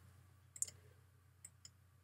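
Mouse clicks while toggling a layer's visibility eye icon in a PSD file, a sharp click near 0.6 s followed by two fainter clicks around 1.45 and 1.65 s over a low steady hum.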